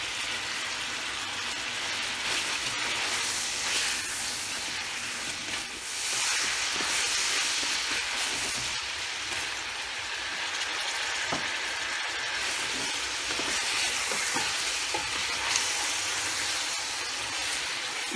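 Spices sizzling hard in hot oil in a pan for biryani, a loud, steady hiss of frying that runs throughout, with no talk.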